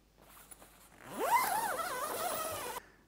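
A zipper on the door of a Gelert Ottawa tent is drawn closed in one long pull, a close, rasping, rising zip that ends abruptly.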